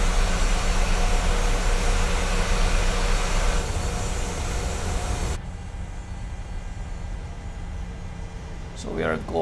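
Boeing 737-700 engine in MSFS 2020 during taxi on one engine, a steady loud whine and rumble that drops to a quieter hum partway through, with brief faint clicks near the end.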